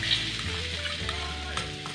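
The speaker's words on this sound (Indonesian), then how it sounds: "Kita masukin bawang putih lalu kita tumis seperti ini" Garlic sautés in a pan as part of a watermelon-rind soup, a steady broadband sizzle with stirring clinks and faint low hum, close and continuous with no talking.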